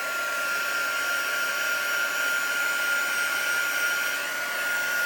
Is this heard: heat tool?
yes